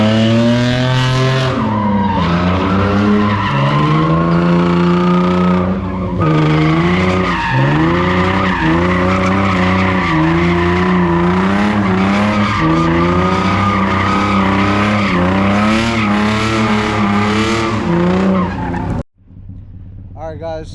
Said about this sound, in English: I did not know Sean knows how to drift like this.